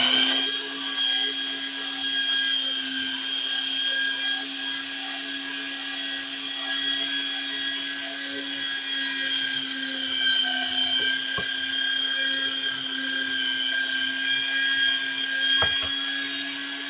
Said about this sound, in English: you're going to keep grinding all of your sausage